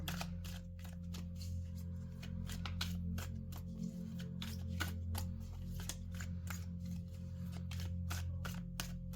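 Tarot and oracle cards are shuffled by hand in a steady run of crisp, close riffles and taps, repeating quickly throughout over a low continuous background hum, with no talking.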